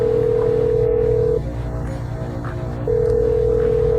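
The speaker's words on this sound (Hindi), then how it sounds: "मैं अभी अपने डीलर को फोन करने वाला हूँ" A telephone line sounds as a call is placed to a dealer: a steady mid-pitched tone drops out for about a second and a half, then resumes, over a low background hum with no speech.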